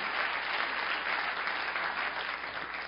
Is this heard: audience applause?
yes